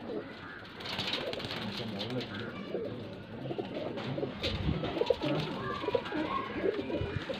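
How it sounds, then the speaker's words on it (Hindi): Pigeons cooing steadily in a loft of young birds kept for sale in Faisalabad, a dense close chorus of overlapping soft coos running throughout. "ये कबूतर जो लगाए थे मैंने,"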